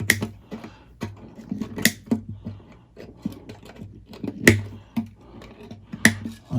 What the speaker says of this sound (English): And then we'll take these strings all off now. We'll cut them away